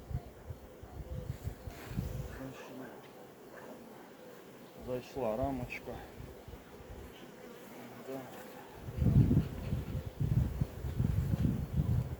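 Aggressive honeybee swarm being moved into a hive, buzzing densely and continuously at close range and swelling louder near the end, with a brief voice in the middle.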